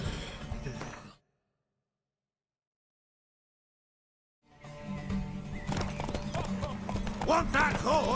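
Horse hooves clip-clopping in The Witcher 3 video game, rhythmic hoofbeats heard before a gap of silence and again afterward, mixed with game music, voices and a horse whinny.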